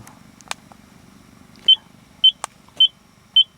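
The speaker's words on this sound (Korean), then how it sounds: "이런 식으로 일산화탄소 일정 이상의 농도가 발생하면 이렇게 자동 경보를 해주는 장치입니다." A Honeywell XC100D carbon monoxide alarm gives four short, loud, high-pitched beeps in a steady rhythm, each about half a second apart, over a quiet low background with a couple of faint clicks.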